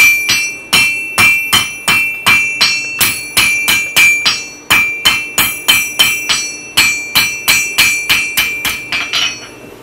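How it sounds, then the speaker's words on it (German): Rapid, ringing hammer blows strike Damascus steel in quick bursts during knife forging, dozens of sharp metallic clanks in a steady rhythm, loud and close with a bright ring. "Jetzt gehe ich mit dem Hammer hin und schlichte die Spuren"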